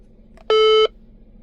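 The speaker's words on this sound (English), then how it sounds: "Has a cool little Roger beep." A DeWalt DXFRS800 two-way radio gives a single short, clean electronic roger beep, a steady tone lasting about a third of a second, close and alone.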